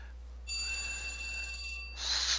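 A phone rings with a steady electronic tone that holds for over a second, then a louder bright trill follows, standing alone over a low background hum.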